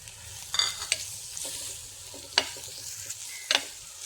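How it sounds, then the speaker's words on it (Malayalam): Chopped tomato tossed into onions sautéing in a pan for a fish curry, a continuous soft frying sizzle punctuated by several sharp scraping and clinking stirs, close and without talk. "ഇതിലേക്ക് ഇനി ഒരു ടൊമാറ്റോ അരിഞ്ഞത് കൂടി ചേർത്ത് കൊടുക്കാം"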